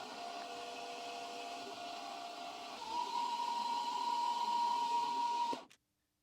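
Small drill boring a 2.5 mm hole for an M3 thread in a steam engine part, a steady whirring motor that rises into a sustained high whine partway through, then cuts off abruptly into silence.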